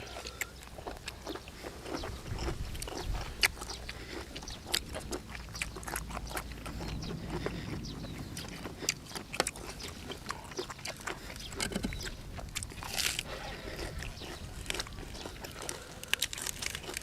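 Close, wet crunching and chewing of fresh squid with irregular crisp bites, continuing steadily with soft mouth sounds and no talking.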